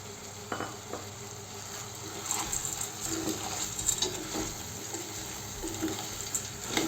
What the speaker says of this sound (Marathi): वडीला छान मिक्स करून घ्यायची आणि तेलामध्ये एक मिनिट असंच फिरवत राहायचं